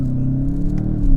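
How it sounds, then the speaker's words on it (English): Engine induction noise from a 2021 Volkswagen Jetta GLI in sport mode, a loud, steady low droning hum heard from inside the cabin, brief and continuous. "That sport mode gives me a lot of induction noise"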